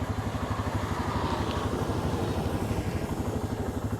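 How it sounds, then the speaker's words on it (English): A tractor engine approaches through a pea field during the vining pea harvest, a steady, loud, low throbbing idle with a regular pulsing beat that runs throughout. "we've got a tractor coming and they're going to unload"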